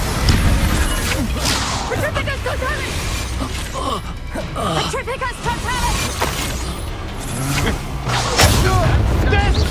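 Spell effects from Hogwarts Legacy combat crack and burst: sharp whip-like snaps, whooshes, mechanical clatter and booming blasts in a rapid, busy sequence, with voices shouting incantations and taunts throughout.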